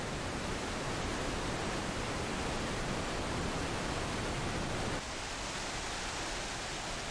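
Roar of Iguazu Falls in Brazil and Argentina: a dense, steady broadband wash of falling water, loud and unbroken, with a slight drop in the low rumble near the end and no voices.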